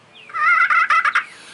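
Turkey purr made on a handheld friction call: a close, short rolling trill broken into a few stuttering pulses, heard alone.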